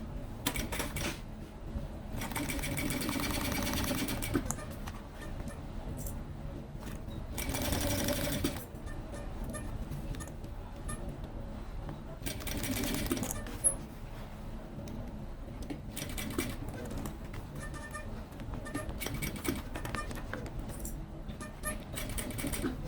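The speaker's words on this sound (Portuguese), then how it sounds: "Agora eu vou passar a costura tudo em volta." A sewing machine stitches around a Kipling-style pencil case in several bursts of rapid, even mechanical clatter, close by, separated by quieter pauses with faint handling noises as the fabric is repositioned.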